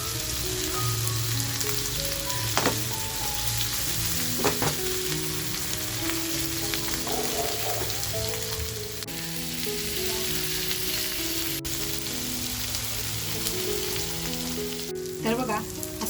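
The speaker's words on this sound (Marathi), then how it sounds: "तर बघा असा मस्त चटपटीत रावस फ्राय झालेला आहे." Rawas fish fry in a pan over a full gas flame, giving a loud continuous sizzle and crackle that lasts throughout, with occasional sharper pops and a faint tonal background.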